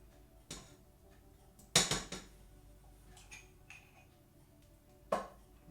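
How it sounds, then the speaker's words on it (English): Coconut oil spooned into a pan with a spatula: a few faint scrapes and taps, with one louder clatter of metal near the middle and another sharp knock toward the end, no talking. "adding approximately 2 tablespoons of coconut oil into the pan"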